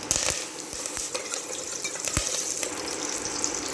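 Mustard seeds, urad dal and curry leaves sizzle and crackle in hot oil, a steady frying hiss with a few sharp pops and stirring clinks, close by.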